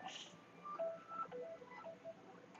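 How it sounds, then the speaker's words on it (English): A mobile phone sounds off with a short series of thin electronic tones and beeps, fairly quiet against a soft background hiss. "that's actually my phone, by the way."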